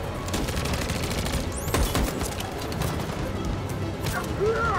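Video game gunfire from Detroit: Become Human rattles in rapid bursts and scattered shots under a dense mix of combat noise, with a sharp whizzing sweep near the middle.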